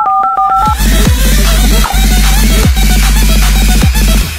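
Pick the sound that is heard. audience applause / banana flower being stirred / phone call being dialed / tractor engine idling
phone call being dialed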